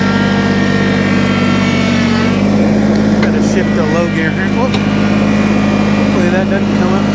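A vehicle hauling a load during palmetto clearing holds a steady, droning engine tone that drops in pitch as it shifts into low gear, then labours on, with faint voices now and then.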